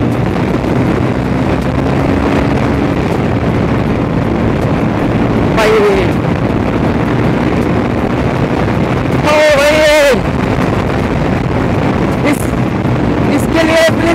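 A modified KTM Duke 250 motorcycle, said to have a slight fault, runs as a continuous engine hum mixed with heavy wind buffeting. Brief sharper revving bursts occur mid-clip, and speech is heard at times.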